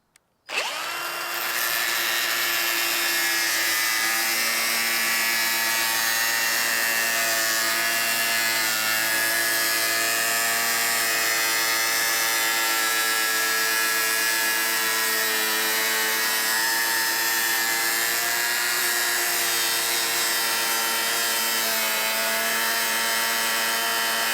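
A power tool whines loudly and steadily through the metal hood of a 1989 Jeep Cherokee, a continuous high grinding screech that starts abruptly and runs unbroken.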